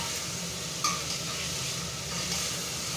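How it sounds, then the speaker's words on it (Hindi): Spices frying in hot oil for a dal tempering, a steady close sizzle and crackle with small spattering pops, continuous for a few seconds, and no talking. "यहाँ पर दाल में छौंका डाला हुआ है, तो यह अभी भून रहा है।"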